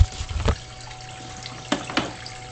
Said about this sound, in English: The fountain pump turns on, fills up top, and then before you know it, you'll see the bell siphons.